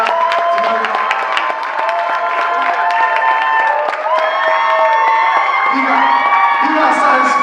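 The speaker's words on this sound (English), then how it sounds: "everybody, round of applause for Secret Prince" A crowd at a creators' event applauds and cheers, with continuous clapping mixed with whoops and shouts that holds steady and loud throughout.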